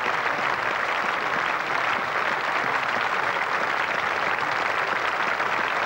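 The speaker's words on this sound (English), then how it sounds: "this is the opportunity of quite a good crowd here at the Oval to congratulate Gow" Crowd at the Oval in London applauding during a 1986 England v New Zealand Test match, steady dense clapping that fills the whole stretch without a break.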